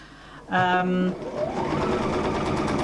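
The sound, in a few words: sewing machine stitching a quilt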